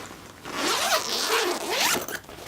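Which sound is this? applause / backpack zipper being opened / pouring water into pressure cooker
backpack zipper being opened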